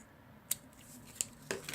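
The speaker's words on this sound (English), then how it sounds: "I'm just going to trim that off just a little bit." Scissors trim the edge of an embossed vellum card with a few quiet, crisp snips spaced apart, close and alone in a hushed room.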